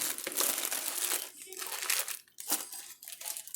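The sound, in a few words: wax paper being folded and crinkled over cookies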